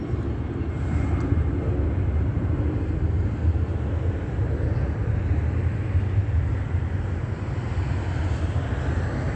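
A commercial airliner taking off over a shopping plaza, a steady loud roar of jet engines with broad rushing noise that holds for several seconds, no voices.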